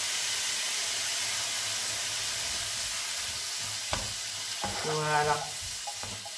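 Blended peeled tomatoes for a chili with butternut squash sizzle steadily in a hot pan, a constant close hiss with a few stirring clatters, while someone speaks briefly.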